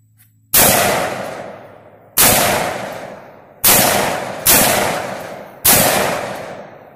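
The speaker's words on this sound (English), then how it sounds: "First shots with the Saint." Springfield Saint rifle firing five sharp, loud shots outdoors, spaced roughly one to one and a half seconds apart, each crack followed by a decaying echo, with no talk.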